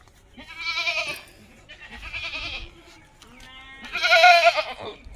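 Goats on a farm bleat loudly and close by, giving three separate drawn-out calls with short pauses between them.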